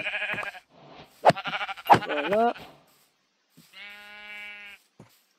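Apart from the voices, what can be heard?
sheep bleating in the video game Minecraft Java Edition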